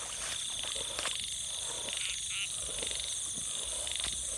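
Frogs croaking at night in a rice-field setting during frog hunting, repeated calls over a dense chorus of insects and crickets, continuous and fairly close.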